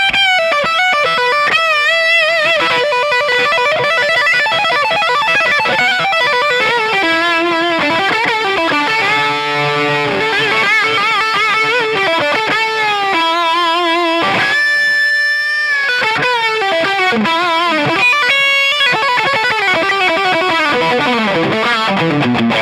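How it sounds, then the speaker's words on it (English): A Kiesel Johnny Hiland JH6 signature electric guitar played hard through its bridge pickup with heavy distortion, loud and sustained riffs and ringing chords filling the whole stretch with no talking. "I'm going to get back on this bridge pickup and hammer it and let you guys hear this."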